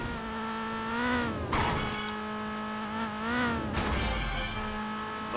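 Race cars in Burnout Revenge roar through a lap, engines climbing and dropping through repeated gear shifts, with tire squeals and a whooshing pass, loud and continuous with no speech.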